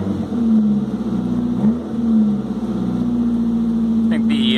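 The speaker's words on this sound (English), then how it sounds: "The exhaust is a little loud." A loud SR20DE car engine rumbles at idle through a throaty exhaust, steady with a brief blip in revs, close by.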